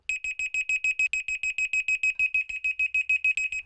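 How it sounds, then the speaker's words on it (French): A dog's tracking collar beacon, in use in the Bois de Boulogne woods, gives a loud, shrill electronic beep repeated in rapid, even pulses, about five per second, for the full clip with nothing else heard. "Je presse sur la télécommande et là, je vais entendre un bip, parce qu'on l'entend très loin, le bip"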